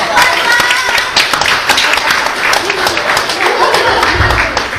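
Audience applause at a live mentalism show: dense, steady clapping from a crowd fills the whole stretch at close range and fairly loud, with a few brief voices mixed into the clatter.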